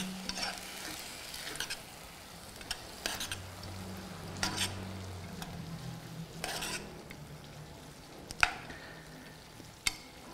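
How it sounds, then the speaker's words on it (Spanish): Rice and root vegetables with soy sauce are stirred in a pan, utensil scrapes and clinks recurring over a quiet sizzle across the length of the clip, no voices. "Revolvemos."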